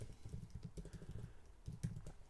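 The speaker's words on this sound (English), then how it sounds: "let's get ahead and start typing a heading" Keys clatter on a computer keyboard in a soft, quiet run of rapid taps, with a few brief pauses.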